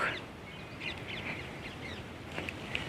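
Scattered bird calls, short chirps and a few caws, rise over a faint steady outdoor hiss in a maize field, fairly quiet and distant.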